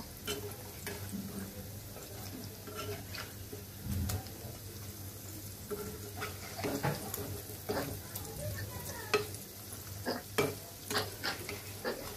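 Pumpkin and shrimp fritters fry in oil over medium heat with a soft, steady sizzle, punctuated by repeated clicks and scrapes of a utensil stirring and turning them, fairly quiet and close.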